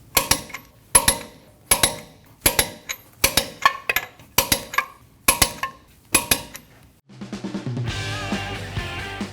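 Torque wrench clicking as lug nuts are tightened to spec on a Nissan NV2500 van, about eight sharp metallic impacts or clicks in a steady rhythm, each with a short ring, then a brief swell of bright, tonal clatter at the end.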